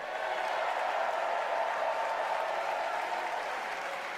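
A large convention crowd at the Democratic National Convention claps in a steady, dense wash of applause that holds for several seconds and eases slightly at the end.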